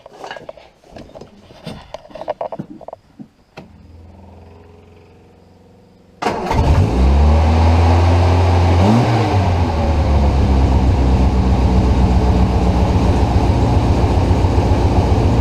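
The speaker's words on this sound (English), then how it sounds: "We'll start it for you, see how it runs." A 1970 Triumph Spitfire engine sits quiet under some clattering and rustling, then cranks and catches at about six seconds and settles into a loud, steady, slightly high idle close to the microphone.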